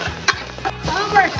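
Vegetables sizzle and are stirred in oil in a wok over low heat, with quick clatters of the spatula and crackling bursts over short spells, close and fairly loud.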